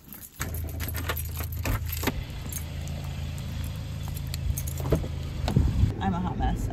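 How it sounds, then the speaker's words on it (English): Keys jangle as they are picked up, a bright metallic rattle sustained over several seconds, close to the listener, over a low car engine rumble. "Are these my keys?"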